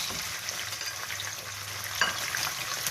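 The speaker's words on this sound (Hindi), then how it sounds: "अब यहाँ पे चिकन डाल दें और इसको फ्राई करें।" Chicken sizzles in hot melted ghee for a salan, a steady close frying hiss with a brief clatter near the end and no voices.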